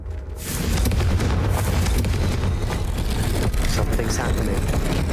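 Confringo blasting spell in Hogwarts Legacy: a loud booming explosion bursts in, then a dense rumbling roar carries on throughout.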